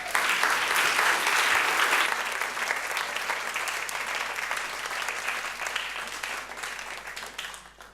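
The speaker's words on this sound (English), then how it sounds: "Please welcome with a big applause" A large audience applauds loudly to welcome a musician presenting his recent work at an evening event; the dense clapping peaks at the start, then eases slightly but keeps going steadily to the end.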